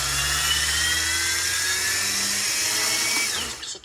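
A radio-controlled helicopter's electric motor, run by a Vbar governor through a Hobbywing ESC, holds a loud, steady high-pitched whine close by for several seconds, then tails off at the end.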